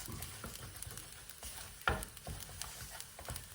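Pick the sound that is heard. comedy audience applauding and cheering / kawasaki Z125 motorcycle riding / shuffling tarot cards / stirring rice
stirring rice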